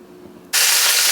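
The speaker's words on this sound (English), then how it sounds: "we got our sausage going in the pan" Sausage in a pan on a stove gives a sudden loud, steady sizzle that bursts in halfway through, broad and hissing, after a quiet stretch.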